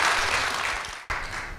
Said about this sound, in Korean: 박찬인 집사님께 큰 박수 보내주시기 바랍니다.